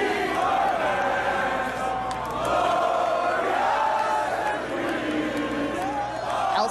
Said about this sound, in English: showing a crowd swarming his vehicle, cheering and banging on the windows